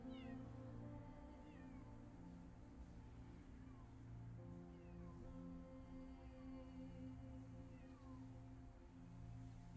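A cat meows repeatedly in an animal shelter in the video game CopyCat, with drawn-out cries recurring over a steady musical background throughout.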